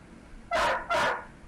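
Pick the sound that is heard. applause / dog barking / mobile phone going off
dog barking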